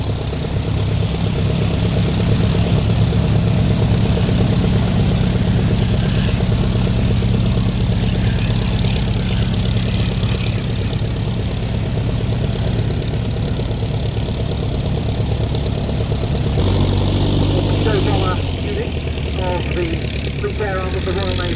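Fairey Swordfish biplanes taxiing out in formation at an air show, a loud steady rumbling radial-engine drone with throbbing idle, rising slightly near the end, under a commentator's voice.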